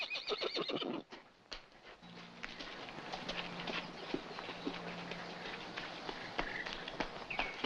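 Horses whinny loudly in a film scene, followed by hooves clip-clopping and a steady background rumble with scattered knocks and thuds.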